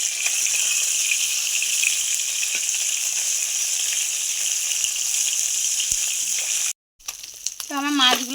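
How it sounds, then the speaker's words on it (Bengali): Fish sizzles steadily in hot oil in a kadai, a loud continuous frying hiss that cuts out briefly near the end before clattering handling sounds return. "তো মাছটা আমি ভেজে নিচ্ছি।"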